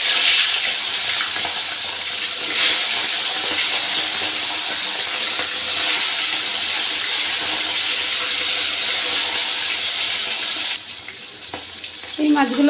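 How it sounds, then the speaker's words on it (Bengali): Pieces of hilsa fish fry in a pan of hot oil with a loud, steady, broadband sizzle that goes on continuously, briefly shifting and dropping in level near the end. "এইভাবেই সব বাকি মাছগুলো ভেজে নেব"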